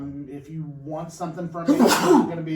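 A sharp, loud sneeze bursts out near the end, following a man's spoken words in a casual interview setting.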